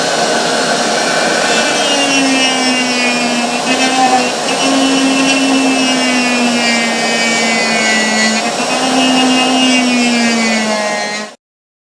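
A power tool trims an airbox base plate, running as a loud, continuous high-pitched whine with slight pitch wavering, close up, before cutting off abruptly at the end.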